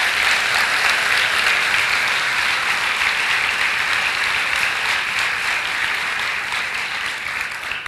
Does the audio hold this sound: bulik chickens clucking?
no